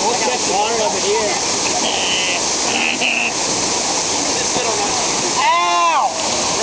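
Water rushes steadily beside a boat, a constant splashing flow that fills the scene, with excited voices calling out over it.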